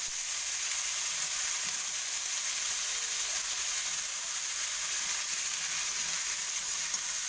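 Potato frying in hot oil, a steady dense sizzle that runs evenly from start to finish, close and fairly loud, with no voices over it.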